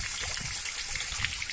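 Rusty iron-oxide water poured straight into an outdoor drain, a brief, steady gush and splash of liquid heard close by.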